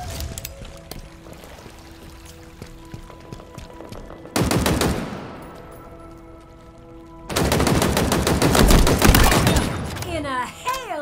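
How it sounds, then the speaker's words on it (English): Gunfire in the video game Halo Infinite comes in two loud, dense bursts of rapid automatic shots, with quieter game sounds and ringing tones between them. "In a hail of gunfire."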